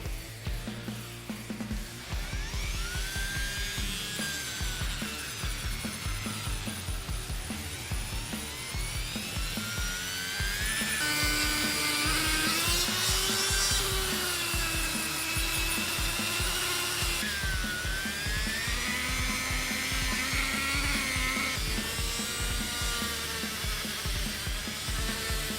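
An abrasive grit brush on a power tool strips paint from metal with a steady, loud whirring grind that keeps going, its pitch shifting slightly as pressure changes against the workpiece.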